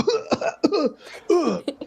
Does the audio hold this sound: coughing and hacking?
yes